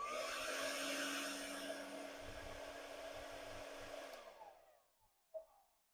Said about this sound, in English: and high fan setting.